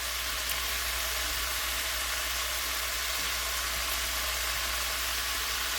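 Bacon frying in a pot, a steady, even hiss of crackling fat that runs without a break, moderately loud and close with no voices.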